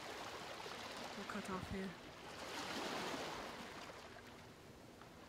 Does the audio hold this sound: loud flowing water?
yes